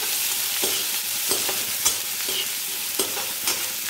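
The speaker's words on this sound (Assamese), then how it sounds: "অলপ ৰঙচুৱা হোৱালৈকে পিঁয়াজখিনি ভাজি ল'ম।" Chopped onions frying in hot oil with bay leaf, stirred in a pan for fish kalia, giving a steady close sizzle broken by repeated scraping stirs at irregular intervals, with no talking.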